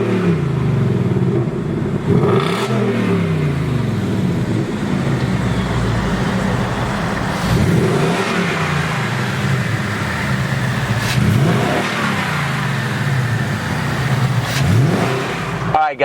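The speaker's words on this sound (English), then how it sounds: "let's hear what 460 horsepower sounds like." A 2019 Mustang GT's 460-horsepower V8 revs repeatedly, with rising and falling roars every few seconds over a steady idle rumble, loud and close.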